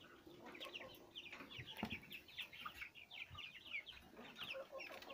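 Black copper Marans hens and a rooster in a pen cluck and murmur softly, with a steady stream of quiet overlapping clucks and occasional louder calls.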